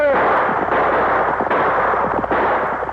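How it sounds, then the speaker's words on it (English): Rifle and six-gun gunshots come in a rapid volley of sharp cracks and booms with echoing reports, loud and dense for a few seconds, as recorded for a Lone Ranger radio show. "they recorded all this right on the scene to have it to get a real honest sound of the gunshots"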